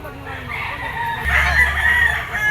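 A green-legged bull stag gamefowl rooster crows once, loud and close, its long drawn call held over a low background rumble.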